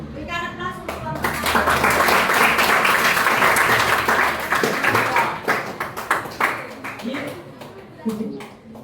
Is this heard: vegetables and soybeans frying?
no